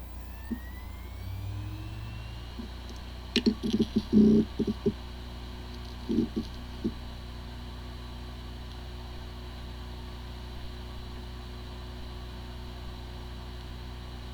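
A WD hard drive with disk firmware corruption runs with a steady low hum and faint whine, with a short cluster of soft ticks and clicks partway through, close and quiet, with no talking.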